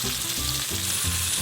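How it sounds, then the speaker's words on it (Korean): Marinated salmon sears in olive oil in a pan, giving a steady, close, loud sizzle with a low bubbling pulse underneath and no voices. "아까 재워두었던 연어를 팬에 올려줍니다. 그리고 이 연어가 노릇노릇하게 익도록 구워주면 됩니다."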